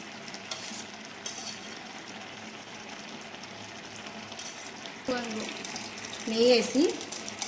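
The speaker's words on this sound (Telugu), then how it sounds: "అందులో కాజు బాదం కూడా వేసుకొని ఇవి బాగా గోల్డెన్ కలర్ వచ్చేంత వరకు వేగనివ్వాలి." Cashews and almonds fry in ghee in a pan for carrot halwa, a soft continuous sizzle that grows louder near the end with a few stirring scrapes.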